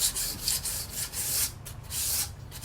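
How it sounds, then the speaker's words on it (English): Sandpaper rasping back and forth along the edges of a painted wood board, close and rhythmic strokes with short pauses between passes. "we get our sandpaper and we're gonna just run it across the edges of our board"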